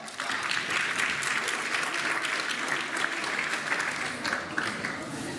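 A crowd claps warmly at a charity Christmas concert, steady dense applause that carries evenly throughout with no letup, fairly close and full.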